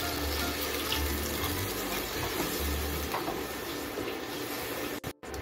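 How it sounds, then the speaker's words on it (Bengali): Water pours steadily into a pan of egg posto gravy, a continuous close splashing rush that cuts off abruptly near the end. "গ্রেভি করার জন্য পরিমাণ মতো জল দিয়ে দিচ্ছি।"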